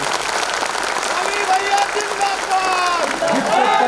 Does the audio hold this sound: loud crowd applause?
yes